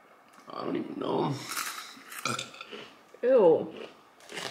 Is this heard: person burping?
yes